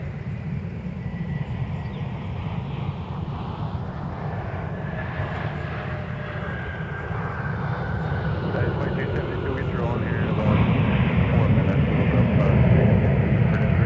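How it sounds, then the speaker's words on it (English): A Delta Airbus A321neo arriving from Las Vegas at Minneapolis–St. Paul airport, a steady broad jet-engine roar that swells louder toward the end, with a voice talking over it. "And arriving from Las Vegas, Nevada with an A321neo Delta 560"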